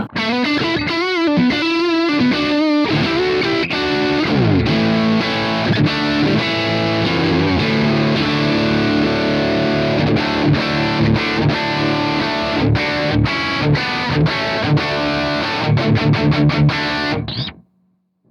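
Distorted electric guitar on the neck pickup through a Marshall amp model, played continuously, crunchy chords and riffs with rhythmic chugging, loud and close, stopping abruptly near the end.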